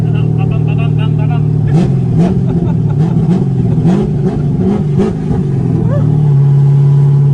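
An LS V8 engine idles with a loud deep rumble, then revs up and down in uneven bursts before settling back to idle, with people talking over it.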